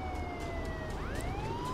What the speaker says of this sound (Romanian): Pornim și sirena